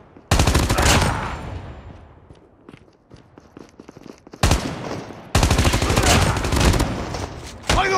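Rapid automatic gunfire from Call of Duty Mobile bursts loud and close in two long volleys, with a quieter stretch of scattered shots and footsteps between them.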